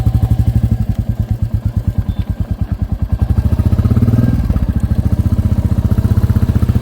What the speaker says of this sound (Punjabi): ਸਟਾਰਟ ਹੋ ਗਿਆ ਆਪਣਾ ਮੋਟਰਸਾਈਕਲ